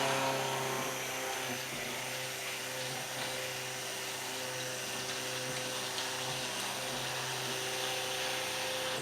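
Stick blender whirring steadily through a thick, cold cucumber soap batter made with cucumber puree and powder, a continuous loud motor whine held for several seconds with no talk.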